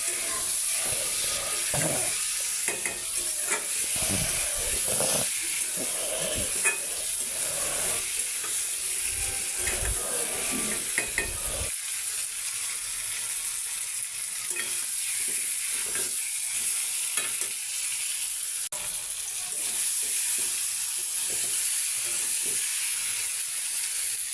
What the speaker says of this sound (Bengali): ডিম আলু দিয়ে নাড়াচাড়া করে নিতে হবে